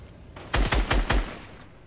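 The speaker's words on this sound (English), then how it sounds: "Who's shooting?" Four rapid, loud gunshots crack out in a tight burst in Fortnite, each with a heavy low thump, followed by a short fading tail and no talking.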